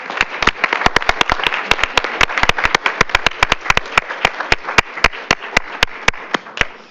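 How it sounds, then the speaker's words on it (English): A board meeting audience gives a round of applause: sharp, distinct claps ring out in a fairly quick, uneven rhythm, close and loud in a quiet room, as though from a small group. "Let's give one more round of applause for our Provo Way"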